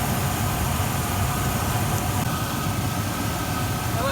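A Rover SD1 car engine with its carburettors being adjusted idles steadily at a constant speed, producing a continuous low rumble with a broad hiss over it. It sounds close and loud, and no one talks.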